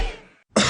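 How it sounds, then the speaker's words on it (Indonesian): Two coughs in a herbal cough medicine advert, each a harsh, forceful burst close to the mic, with a short silence between them. "Oh, batuk."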